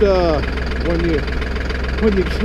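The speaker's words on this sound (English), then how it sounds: "When you first crank up that tractor, he's a little grouchy and makes a lot of noise." An old tractor engine, freshly cranked and still cold, runs rough and loud with a steady low knocking throb throughout, while a voice talks over it.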